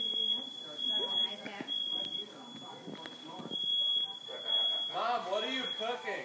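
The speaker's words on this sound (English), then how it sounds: "Fire alarms." A smoke alarm beeps in repeated high-pitched bursts while people talk over it, with a clatter of household noise around them.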